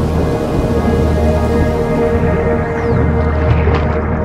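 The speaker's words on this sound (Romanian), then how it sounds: "Și ploaia s-a transformat în strașnic potop." Heavy storm rain and floodwater pour in a dense, continuous roar with a deep low rumble, loud and unbroken throughout, with no voices.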